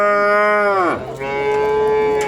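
Cows mooing at the Kırıkkale livestock market, one long, loud, close bellow that falls in pitch, then a second moo right after, with no talk over them.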